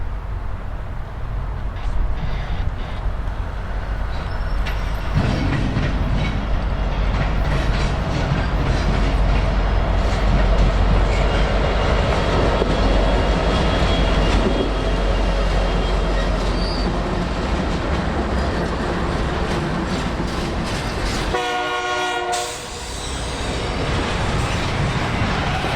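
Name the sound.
Union Pacific freight train with AC4400CW locomotive rolling past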